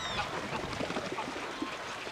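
Geese on a marsh give a run of nasal honks and calls, several overlapping at moderate distance, over a soft, watery background.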